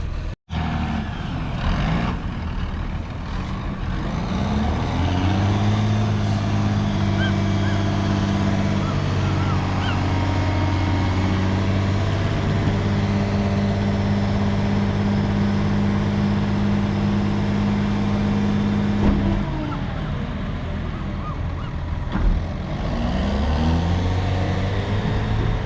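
Heavy off-road trucks dumping loads of dirt at a job site, a loud steady diesel engine drone with shifting low harmonics running nearly the whole time, briefly dipping near the end before rising again.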